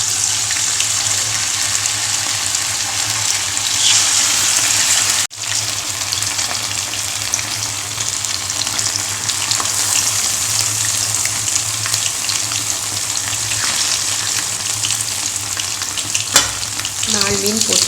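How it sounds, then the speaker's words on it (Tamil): Sardines (mathi) frying in hot oil for a South Indian fish fry, a loud, continuous close sizzle and crackle that runs throughout with a brief dip partway. "எண்ணெய் காஞ்சிடுச்சு, அதில் மீன் போடுறேன்."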